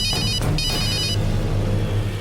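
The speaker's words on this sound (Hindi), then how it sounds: "आनंदी फोन उठाकर बात करने वाली है।" An electronic ringtone on a telephone rings in repeated bursts with a brief gap between them, over a steady low background hum, with no one speaking.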